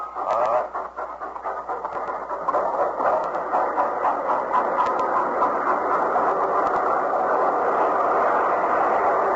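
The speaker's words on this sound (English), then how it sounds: "Got to dump this Hanson car off the tracks or the train will be rushed" A steam-era train running in an old radio drama: a steady, loud rhythmic chugging and clattering that builds after a brief quieter start, with repeated hissing bursts and continuous rail noise throughout, no voices over it.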